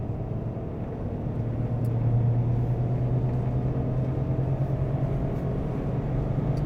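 A Toyota GR Corolla hot hatch in track mode at Phillip Island circuit gives a steady, loud engine drone with a constant low hum and road roar, unbroken for several seconds and with no voices.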